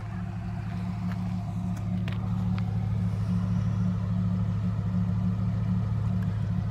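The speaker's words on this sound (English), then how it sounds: "listen to the exhaust real quick, but it's very quiet in this car, especially once it's warmed up" Deep, steady idle from the exhaust of a warmed-up 1999 Pontiac Trans Am WS6, a low even rumble held close and constant with a few faint ticks above it and no talking.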